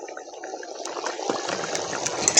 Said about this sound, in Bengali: এবার ভালো করে একটু ফুটবে